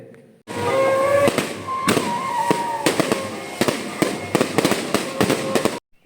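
Rapid fireworks crackle and pop continuously at a Tamil temple festival, sharp loud bursts stacking over a dense hissing roar for several seconds before cutting off.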